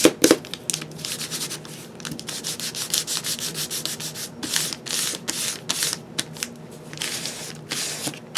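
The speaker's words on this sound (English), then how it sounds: "Oh, I sanded right through on some of these." Magazine pages being sanded with a nail file: a close, raspy scraping in quick irregular strokes and rubbing bursts, steady throughout with brief pauses and no talk.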